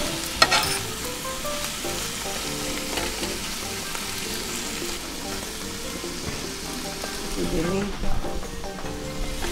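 Ground beef picadillo frying in a pan, a dense continuous sizzle that runs the whole time, with scraping as the meat is pressed down and voices faintly underneath.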